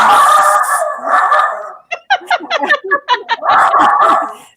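Two excited dogs, Milo and Skywalker, bark, yip and howl close and loud in a continuous rapid volley, mixing drawn-out howling with clusters of quick yaps.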